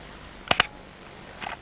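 A camera shutter opens and closes with two distinct clicks spaced apart, followed a second later by a softer mechanical rattle; quiet otherwise.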